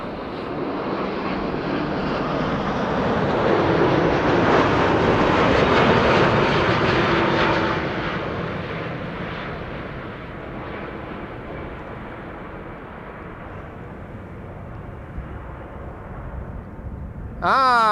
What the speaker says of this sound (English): Ah, they did a touch and go